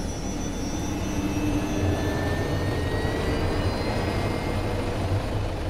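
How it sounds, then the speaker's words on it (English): A helicopter in the video game DayZ sweeps past with a steady, loud rotor and engine roar that holds constant throughout, with no talk over it. "I love the sound of heli charging up the corner"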